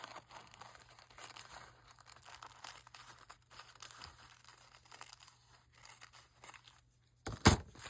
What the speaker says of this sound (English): that gives me a paper, plus it's a noisy paper